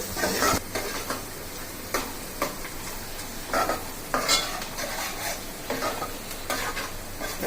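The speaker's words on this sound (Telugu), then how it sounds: "సో దాంట్లోకి ఆనియన్ జీలకర్ర పసుపును వేసుకొని చక్కగా ఒక 2 మినిట్స్ అట్లా ఫ్రై చేసుకోవాలి." Onion, cumin seeds and turmeric sizzle in hot oil in a pan, with a steady close frying hiss broken by repeated bursts of stirring and scraping roughly every second, and no speech.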